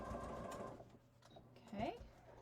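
Soft mechanical whir of a sewing machine stitching a cross body bag with contrasting thread, faint and intermittent, with a voice talking over and between the bursts.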